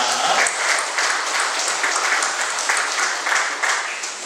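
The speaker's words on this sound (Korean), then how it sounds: "우리 하나님께 영광의 박수 드리겠습니다." Sustained applause from a church congregation at a Sunday service, dense and steady throughout with no talk over it.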